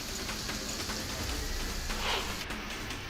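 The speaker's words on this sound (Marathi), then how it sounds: "लोणावळ्यामध्ये पावसाचा जोर कायम आहे. मुसळधार पावसानं पर्यटकांना चांगलं झोडपून काढलं." Heavy rain falls in Lonavala as a constant, even wash of raindrops, moderately quiet and unbroken, with no voices.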